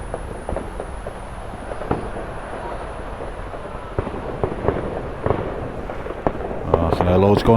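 Fireworks crack and pop across a city on bonfire night around Goodison Park and Anfield, heard from an airborne drone whose thin whine hovers above irregular distant bangs, with a closer burst of crackles at the end.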